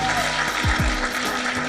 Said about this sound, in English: give our next speaker a warm, warm, warm round of applause